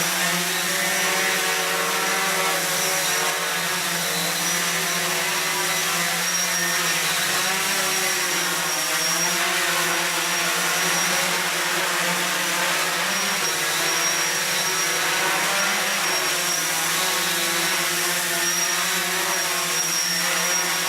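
A 450-size FPV quadcopter drone hovers with its motors running, giving a loud, continuous high-pitched whine and buzz that holds steady with slight wavering pitch throughout, close and alone.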